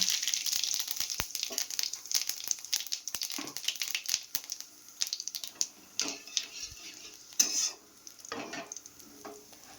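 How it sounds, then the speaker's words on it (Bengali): White cumin seeds dropped into hot oil crackle and sizzle in bursts, with scattered clinks and scrapes of a utensil against the pan, no talking. "তেল গরম হয়ে গেছে এবার দিয়ে দেবো সাদা জিরে"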